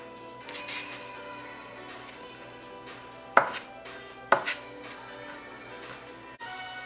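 A knife chops food for a potato salad with eggs, giving two sharp, close chops about a second apart over a quiet, steady hum.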